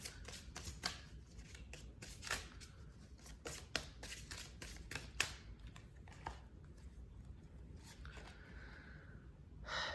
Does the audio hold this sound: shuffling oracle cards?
yes